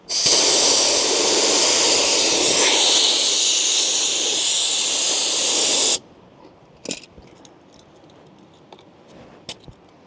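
Air hisses loudly and steadily out of a van tire's valve stem for about six seconds and then cuts off. Quiet rustling and faint handling clicks follow.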